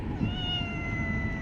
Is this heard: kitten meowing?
yes